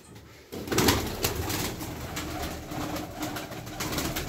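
A strong, heavily feathered tumbler pigeon coos and calls nearby in a loft after a brief quiet start, the sound rising into a steady run of soft calls.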